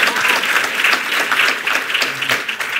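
Audience applause at a SXSW panel talk on justice system reform, a dense, even wash of clapping that carries through the whole moment at steady strength.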